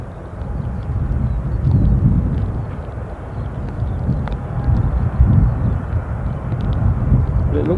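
An airliner rolls out at Newcastle International Airport for departure to Faro, giving a steady low engine rumble heard from a distance with some outdoor background noise.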